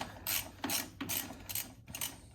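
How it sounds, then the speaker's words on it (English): Ratchet wrench loosening a bolt under a 1996 Chevy S10 during coil spring work, giving four quick, crisp clicking bursts close by, each a short run of pawl clicks with brief pauses between. "look how crisp my bolt's coming out"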